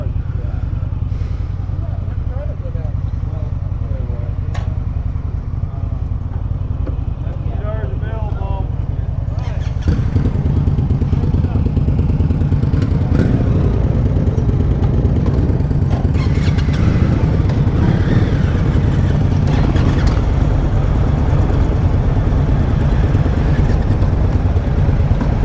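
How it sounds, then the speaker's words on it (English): An Indian Scout 60 motorcycle on the road, its engine droning loud and close with steady rumble and wind, pitch shifting as it pulls away and gathers speed, while a rider talks over it at times. "Go for a ride on this Scout 60."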